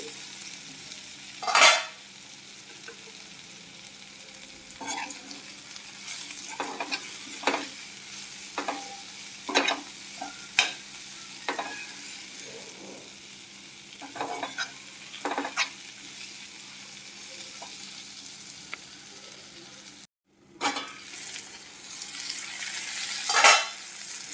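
Broad beans (bobbarla chikkudu) frying in a pan with a soft steady sizzle, broken by repeated sharp scraping stirs at irregular intervals, close up and with no voices.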